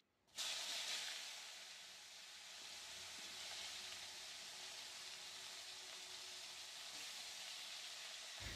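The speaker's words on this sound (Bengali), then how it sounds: "সেই পাখনা দুটো আমি কড়াইতে দিয়ে ভেজে নিয়ে" Chicken wings frying in a kadai give a sudden hiss as they go into the hot oil, then settle into a steady, fairly faint sizzle that carries on unbroken, with no voices.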